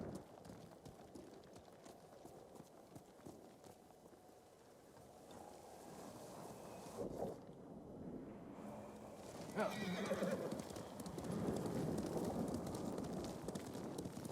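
A horse in Ghost of Tsushima, the video game, neighs and clops its hooves amid a busy, noisy in-game soundscape, the sounds moderately loud and partly blended into rushing background noise toward the end.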